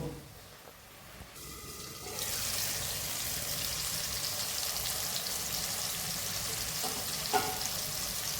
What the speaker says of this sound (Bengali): হলুদ দিলাম, এবার আর একটু ভেজে নেব।